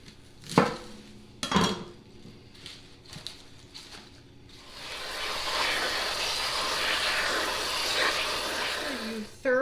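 Butter lettuce is rinsed under running water, a steady broadband gush of the tap after a few clinks and knocks of handling at the sink, continuing to the end without talk over it.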